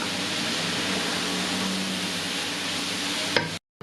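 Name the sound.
leek and minced meat cooking in a pan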